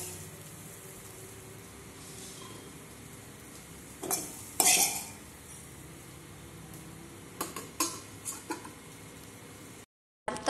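A spatula scraping and stirring fried egg in a hot kadai, with soft sizzling beneath a few sharp metal clinks and scrapes near the middle and end.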